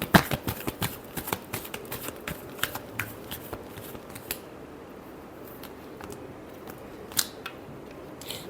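Tarot cards shuffled by hand in a quiet room, a quick run of crisp riffling clicks and flutters that is busiest early on, then thins to scattered soft taps and a few sharp snaps. No voices.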